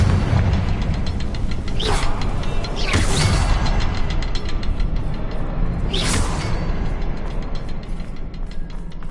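The Confringo fire spell in Hogwarts Legacy sets off a loud, continuous mechanical rumble and rattle. Sharp whooshing bursts rise through it at three separate moments.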